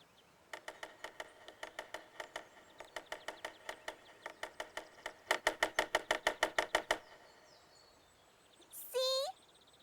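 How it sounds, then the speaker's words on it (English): Cartoon woodpecker pecking on wood: quick bursts of sharp, evenly spaced knocks in three rapid runs, fairly close, followed by a short rising bird-like squawk at the end. "It's a woodpecker."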